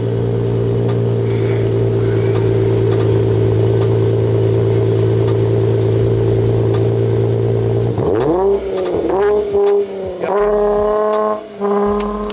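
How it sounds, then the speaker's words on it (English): A Dodge Charger with a custom exhaust idles with a deep, throaty rumble, then revs sharply several times, each blip rising and falling, loud and close. "turn on the car so y'all can hear the exhaust"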